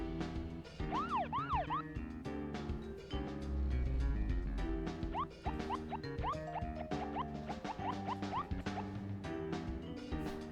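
A car siren in the Deadly Premonition video game wails in repeated rising and falling sweeps, loud and prominent over a steady tonal game soundtrack.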